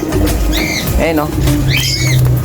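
Pigeons cooing close by, their soft warbling calls rising over loud, rumbling background noise.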